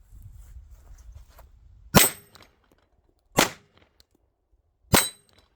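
A Canik TP9DA double-action pistol is dry-fired three times, each trigger pull ending in a sharp, loud metallic snap at steady intervals. The clicks are close and isolated, with near silence between them and no talking.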